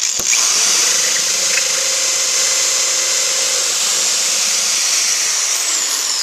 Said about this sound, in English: now I'm sure I've gone all the way through the block. Drilling's done, that easy.